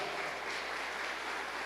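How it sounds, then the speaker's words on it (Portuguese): A church congregation at a morning service applauds, a steady, fairly faint hiss of many hands clapping, heard from a distance without any voices over it. "Vamos aplaudir o Senhor Jesus, pessoal?"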